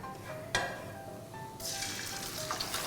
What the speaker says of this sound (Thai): เราสามารถเอามาผัดไข่ต่อได้เลยค่ะ